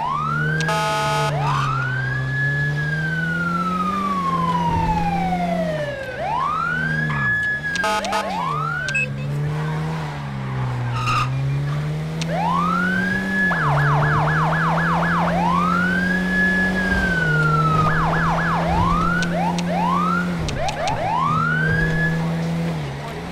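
A police car siren in the video game GTA V wails and yelps in repeated sweeping cycles, loud and close, switching between slow rises and rapid chirping bursts for over twenty seconds with no talk.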